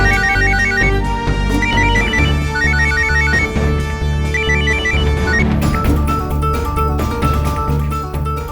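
A mobile phone ringtone plays a bright, repeating melodic phrase over and over for about eight seconds. It is loud and steady, set against a dramatic crime-show music backdrop.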